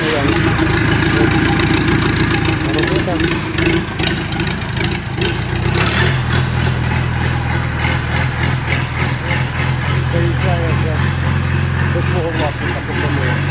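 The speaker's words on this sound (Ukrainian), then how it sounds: "ось приходять тракторці" Small tractors, including a Dongfeng and a Shifeng SF 404 C, run nearby with a steady, loud chugging idle and slight revving, while voices talk underneath the engine noise.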